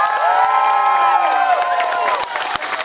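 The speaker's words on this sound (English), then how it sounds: "Everybody give those firefighters a round of applause." A crowd at an outdoor flashover and fire sprinkler demonstration cheers and claps for firefighters, with whoops and shouts, children's voices and scattered claps mixing together before the cheering thins out toward the end.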